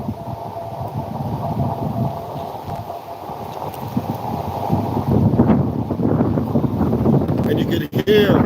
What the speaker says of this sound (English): you can hear that the wind is really blowing